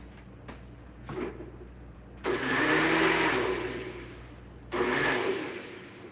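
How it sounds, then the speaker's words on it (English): A kitchen blender grinds soap and water in its jar in two loud whirring bursts, each starting abruptly and fading away, after a few quieter clicks and handling sounds. "I'm just going to grind it again"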